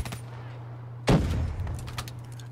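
Gunfire in a Call of Duty Black Ops 3 online match: a sudden loud burst of shots followed by a sustained rattling tail and scattered further cracks, over a steady background hum.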